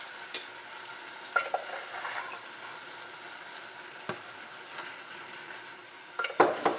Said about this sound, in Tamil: அவிச்சு வச்சிருக்கிற பாசிப்பயிரையும் சேர்த்து கொஞ்சம் லேசாக கலந்து விட்டுக்கோங்க